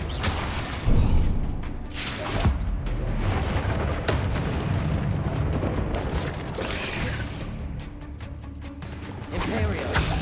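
A Confringo blasting curse explodes in Hogwarts Legacy, producing booming bursts amid dense, continuous game combat noise, with talking present throughout.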